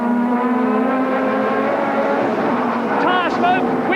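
Onboard a 1992 British Touring Car Championship racer at Brands Hatch, a steady loud engine drone persists while a following BMW presses close, with a commentator talking over it throughout.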